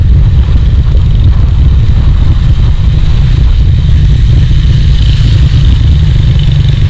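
A Honda CG 125 motorcycle labours uphill on a mountain road near Margalla Hills, its engine a loud, constant low drone close up, mixed with steady wind rumble.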